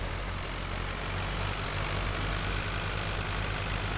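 A tractor engine in a farming video game drones in a steady, low, continuous rumble, loud and unbroken, with no voices over it.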